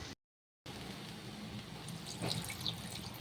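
Water pours steadily into a pan of fried potato and chana dal curry, a continuous splashing rush that follows a brief moment of silence.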